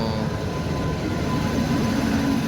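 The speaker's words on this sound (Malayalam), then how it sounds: "ട്രെയിൻ വന്നു." A train arriving at a platform rumbles close by with a deep, steady roar and rolling clatter, a faint high whine above it.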